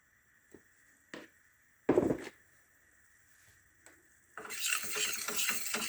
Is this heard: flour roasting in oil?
yes